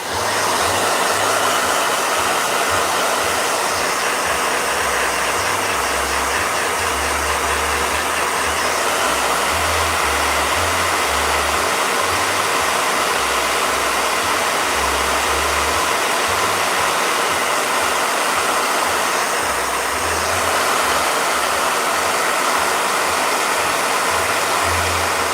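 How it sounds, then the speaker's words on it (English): A blow dryer runs close and loud for the whole stretch, a steady, unbroken whirring roar with slight shifts in tone, and no one talks over it. "Blow dryer."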